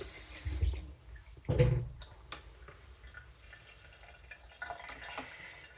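Water is poured and splashed onto a straight razor honing stone, two short close bursts followed by soft drips and light handling sounds in a quiet room.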